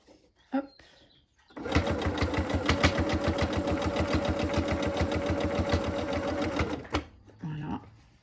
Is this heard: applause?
no